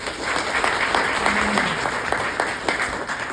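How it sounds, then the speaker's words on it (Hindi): An audience in a meeting hall bursts into applause, dense rapid clapping from a roomful of people, close and steady for a few seconds. "इनकी ताली बजा दीजिए।"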